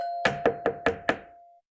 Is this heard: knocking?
yes